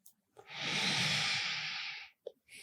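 A long, deep breath drawn in and slowly released during a calm yoga practice, a steady airy hiss lasting nearly two seconds, close and alone, followed by a short faint breath.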